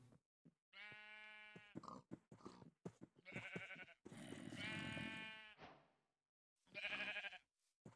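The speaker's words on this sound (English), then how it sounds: "Do you guys hear that? Or is that just the sheep?" Sheep bleat repeatedly in Minecraft, wavering nasal cries in several bursts separated by short gaps and soft clicks.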